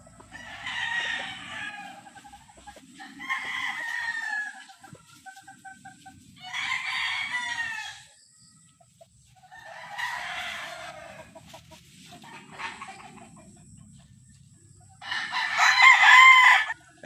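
Gamecock roosters, Sweater crosses bred from Golden Boy, crowing repeatedly in loud, drawn-out calls at close range, about six crows with pauses between them and the last crow being the loudest.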